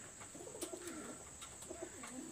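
Domestic pigeons coo in soft, rolling phrases from a home loft, several repeated calls close by over faint background noise, with no talk.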